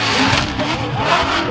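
Drift cars, a Toyota GR Supra and a Mustang, battle at a Formula Drift Atlanta competition, their engines roaring loud and continuous with tire noise in one dense wash of sound.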